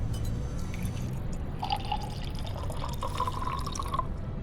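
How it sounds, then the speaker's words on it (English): Water pours into a cup with a faint trickle and a gurgle rising in pitch as it fills, partly buried under a steady low hum of background noise. "I know some people like the water pouring ASMR noises."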